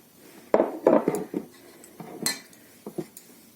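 A spoon stirs methi laddu ingredients, roasted dry ginger, black pepper, sesame and fenugreek, into jaggery syrup in a metal pan, with a few close, sharp scrapes and clinks in brief bursts separated by near silence.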